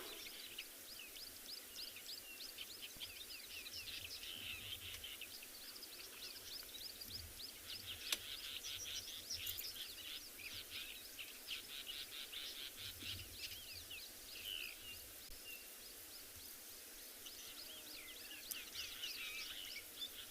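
Wild migratory birds calling during an evening safari drive in the wet season, a steady wash of chirps and tweets with insects buzzing underneath, moderately distant and continuous throughout.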